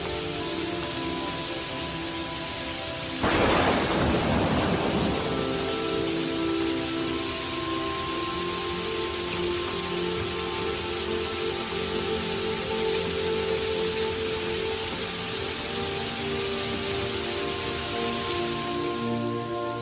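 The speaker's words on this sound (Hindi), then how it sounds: "रास्ते में बहुत ही तेज बारिश होने लगती है" Steady, heavy rain pouring down continuously, a dense hiss that swells suddenly near the start and holds without letup.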